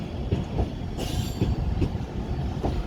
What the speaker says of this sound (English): here comes the 1313 Transpennine service to Cleethorpes